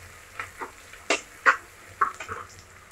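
Shallots and green chilies are stirred in a frying pan for a Kerala buttermilk curry, giving a few distinct scraping and sizzling strokes spaced across the moment, close and clear with no talking.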